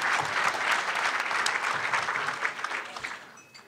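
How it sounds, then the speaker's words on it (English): Steady audience applause at a school policy forum on neighborhood and charter schools fills the room, dense and continuous before tapering off near the end. "Big round of applause for Andrea"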